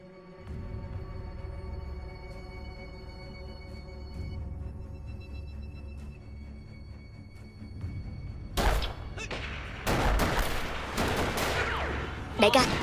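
Gunfire in a martial arts gangster film set in Shanghai: after a long stretch of tense score, sharp loud shots burst out in quick clusters near the end, layered over music and scattered speech.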